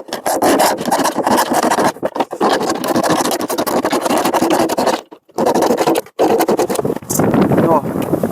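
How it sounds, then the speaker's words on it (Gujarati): A tin container is cut open for a farming hack, a harsh rasping, scraping metal sound running almost continuously up close, broken by a couple of short pauses. "હવે હાલો આ ડબ્બો પેલા કાપી નાખી પછી બોલો."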